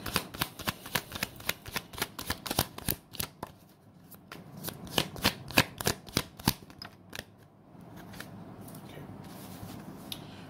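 Tarot cards being shuffled and handled in a series of crisp, rapid riffling and snapping bursts, close and fairly loud, with a brief lull before a softer continuous rustle near the end.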